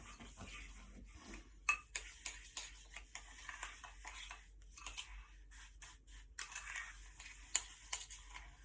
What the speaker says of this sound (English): And then just mix it all together.